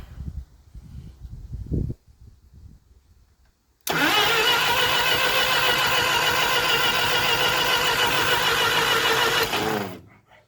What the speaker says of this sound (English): Let's see what our starter will do.